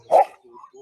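A single short dog bark rings out close by, followed by faint soft whines.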